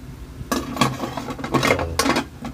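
A metal knife scrapes and clinks against a rice pot while stirring rice being cooked by the drained-water method, giving irregular close scraping bursts with short pauses.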